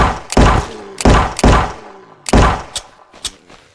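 Heavy gunshots in the survival video game SurrounDead, several loud, punchy blasts fired in irregular pairs and singles, each with a short booming tail, close and clear with no talk over them.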